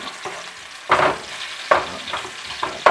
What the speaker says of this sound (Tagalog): Nilagyan ko na po ng mantika at magigisa po tayo ng bawang.